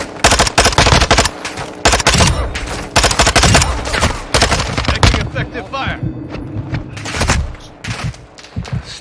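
Rapid automatic gunfire and heavy booms from the video game Call of Duty Modern Warfare 2, loud and dense bursts filling the whole stretch, with a voice speaking briefly amid the shooting.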